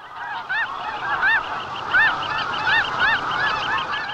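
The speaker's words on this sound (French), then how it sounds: "les nouvelles générations d'oies se joignent à la grande migration vers le sud" A flock of migrating geese honks overhead, many overlapping nasal calls in quick irregular succession, lively and fairly near, with no voices present.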